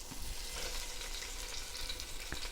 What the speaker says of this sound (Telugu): ఆయిల్లో ఇప్పుడు స్టీమ్ చేసిన చికెన్ ఉంది కదా మంది, ఈ చికెన్ని రోస్ట్ చేసుకోవాలి